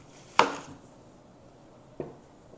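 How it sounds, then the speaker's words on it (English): A knife chops through an onion on a cutting board: one sharp, close cut, a pause, then a second softer chop, with quiet kitchen room tone and no talk. "I'm going to cut up an onion"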